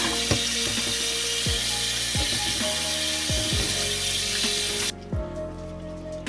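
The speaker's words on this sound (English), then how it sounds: "Other than just run in cold water and rinse it a couple of times." Cold tap water runs into a kitchen sink as bok choy is rinsed, a steady hiss with scattered knocks and clinks of the greens against the basin, until the flow cuts off abruptly near the end.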